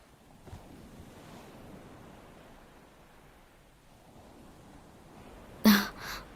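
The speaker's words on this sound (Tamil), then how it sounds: "இந்த மாதிரி கடலோரமா நடந்து போறது ரொம்ப நல்லா இருக்கு" Ocean waves wash steadily at the seashore, a soft continuous surf hiss with light wind, ending in a brief louder gust or bump.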